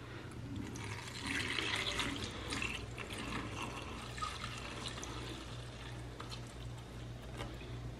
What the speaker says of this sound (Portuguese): Vamos colocar o leite agora, né?